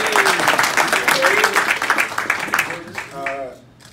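At a boxing press conference, the audience breaks into loud, close clapping that surges then thins out over a few seconds, with voices calling out over it.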